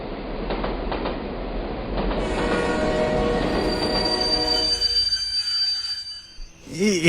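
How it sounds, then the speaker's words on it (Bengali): A train rumbles and clatters while its wheels let out a sustained high metallic squeal, the noise fading as it slows, with a brief voice at the end. "ট্রেনটা হঠাৎ মাঝ রাস্তায় দাঁড়িয়ে গেল কেন রে?"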